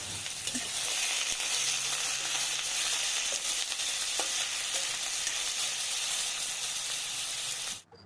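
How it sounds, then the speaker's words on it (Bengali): Potatoes frying in a pan with spices, a loud, dense, continuous sizzle and hiss from start to finish, cutting off abruptly at the end. "আলুটাকেও আমি এইভাবে ভালো করে ভেজে নেব"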